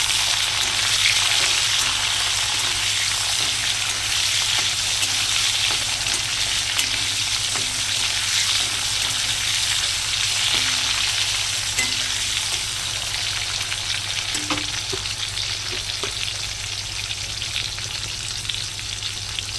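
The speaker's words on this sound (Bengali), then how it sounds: "কামরাঙা দিয়ে দেবো দিয়ে এবার ভালো করে নেড়ে নেবো" Masoor dal with sliced carambola sizzles steadily in a pan while being stirred, with a constant bright frying hiss and occasional soft scraping strokes, close and continuous with no talking.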